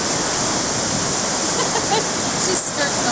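Steady broadband roar of ocean surf on the Oregon coast, continuous and fairly loud with no distinct wave breaks, heard close to the water.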